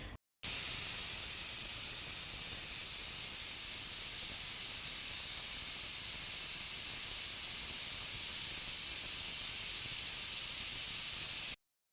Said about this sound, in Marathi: इथे कुकरच्या 2 शिट्या झालेल्या आहे